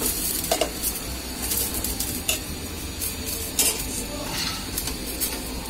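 Bottle gourd and shrimp stirred in a pot, with close, steady scraping and clinks of a utensil against the metal over a soft simmering hiss, no voices.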